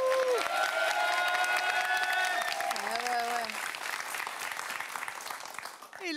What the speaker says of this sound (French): Et applaudissez là tout d'un coup. Plus fort.